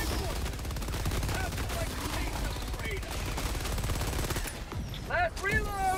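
Gunfire in Helldivers 2 crackles almost continuously through the whole stretch as a dense battle mix, with a few voice-like calls near the end.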